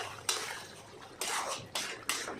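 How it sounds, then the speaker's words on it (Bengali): A cooking pot lid is lifted off a simmering pot of mete chorchori with liver and potato, giving a few sharp metallic clanks and scrapes spaced about a second apart against a soft background hiss. "এখন ঢাকনাটা উঠিয়ে দেখি কত দূর হলো।"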